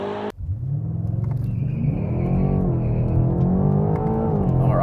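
BMW M8 Competition accelerating hard from a launch-control start, a deep engine roar building and rising steadily in pitch after a sharp initial thump, heard from inside the car with no talking.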